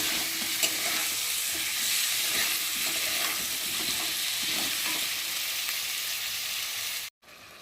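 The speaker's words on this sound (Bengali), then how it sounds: "আদা বাটা জিরে বাটা, দিয়ে মশলাটা খুব সুন্দরভাবে কষিয়ে নেব" Ginger and cumin spice paste sizzles steadily in hot oil, with continuous frying hiss and soft scraping as it is stirred, close and alone.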